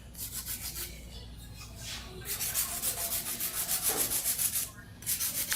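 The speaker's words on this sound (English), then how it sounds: "It's a very efficient way of filing." Hand file rubbing back and forth across acrylic nails, a steady run of rapid scratchy strokes, close and fairly loud with a brief pause partway through.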